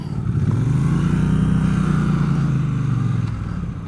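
A Triumph Bonneville T120 motorcycle rides in first gear, its engine droning loud and steady with a gentle rise and fall in pitch under rushing wind.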